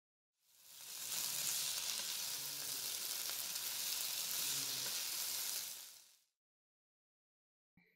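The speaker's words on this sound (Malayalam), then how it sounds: "5 മിനിറ്റിന് ശേഷം ചപ്പാത്തി ചേർത്ത് നന്നായിട്ട് ഇളക്കി കൊടുക്കാം" Leftover chapati noodles are stirred in a hot pan, giving a steady close sizzle with soft scraping for about six seconds before cutting to silence.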